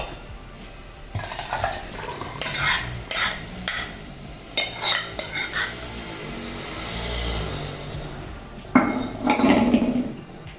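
Payasam with cashews and raisins being moved into a cooking pot, with clattering metal pot and ladle scrapes, intermittent knocks and rattles, and a louder clanking burst near the end.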